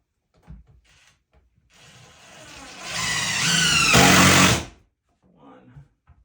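A power driver sinks screws into 2x6 lumber while building a two-person picnic table: one close, rising motor whine with grinding bite lasts about two seconds, with quieter handling before and after.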